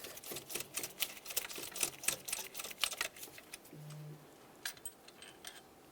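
Close ratcheting clicks come in quick bursts as 15mm alternator bracket bolts are backed out on a Dodge Journey, followed by a short low mechanical hum and then a few faint metallic taps.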